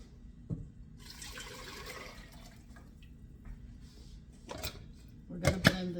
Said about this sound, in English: Pour your liquid back in.